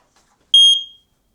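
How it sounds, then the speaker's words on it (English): An X-Sense carbon monoxide detector gives a single loud, piercing electronic test beep, shrill and clear, lasting about half a second before quickly trailing off into silence. "We're going to hear a loud beep, and we're going to hear the voice command."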